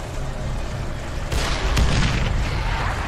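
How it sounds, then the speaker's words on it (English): A propane tank shot in the video game Dead Island: Riptide bursts in a dull, rumbling boom that rises midway through and lingers over a steady noisy game background, fairly close, with no talk. "there's a propane tank over on this one if you want to come shoot it."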